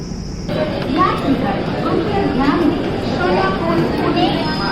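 A steady, dense hubbub of many voices chattering at once at Yadgir railway station, with children's voices rising above the crowd.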